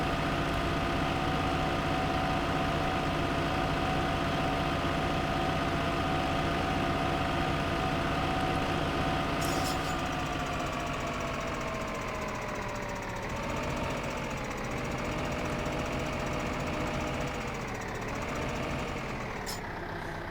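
An 80 horsepower tractor engine in Farming Simulator 2015 drones steadily and loudly under load, with the pitch dropping and then wavering up and down as the engine labors, heard alone.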